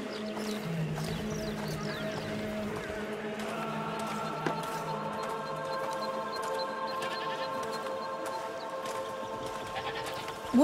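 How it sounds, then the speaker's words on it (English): Goats bleat now and then in the video game A Plague Tale: Requiem, over a steady layered game ambience with soft hoof clops, at moderate distance. "What's over there? Goats!"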